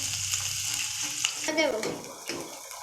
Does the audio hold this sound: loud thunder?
no